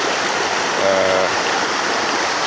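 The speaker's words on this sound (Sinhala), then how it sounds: "පෙට්ටිගල කඳු යායෙන් ගලාගෙන යන තාසු පැහැදිලි සුපිරි ජලය තමයි මේ දෙලේ පවතින්නේ." Clear water from the Pettigala hills flowing in the Madola river stream in Sri Lanka makes a steady, close rushing wash with a soft gurgle, continuous and unbroken with no talk.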